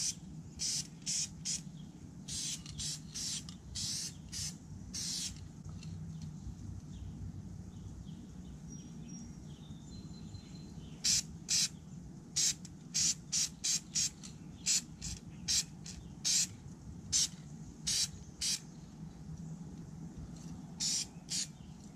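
Duplicolor Perfect Match spray paint hisses onto a car bumper in a string of short, sharp bursts with brief pauses between them, close and crisp over a quiet background.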